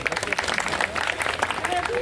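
Audience applause at a gathering of an animal welfare association in Uttar Pradesh, a dense, steady patter of many hands clapping with speech-like voices mixed in, moderately loud throughout.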